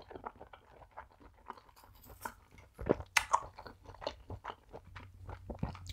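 Someone eats grilled meat shashlik and mushrooms in cheese sauce up close, with repeated crunchy bites and steady chewing throughout, and one louder crunch near the middle; no talking.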